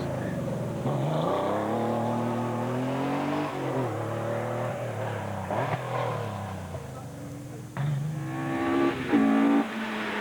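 A twin cam Ford Escort rally car engine revs hard and accelerates at the 1997 Jersey Rally, rising in pitch through several gear changes, with tyre noise and a final loud burst.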